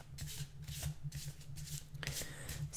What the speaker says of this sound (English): I'm just going to do a little more shuffling with the cards